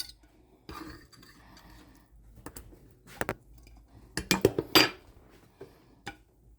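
Pork tenderloin dinner with biscuits is served onto plates: scattered clinks and clatters of dishes and cutlery, a quick cluster of louder knocks midway, over a quiet room.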